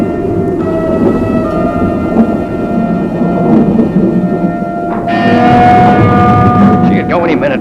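Thunder rumbles from a lightning storm, a loud low rolling roar with rain-like hiss, swelling again near the end, with no clear speech over it.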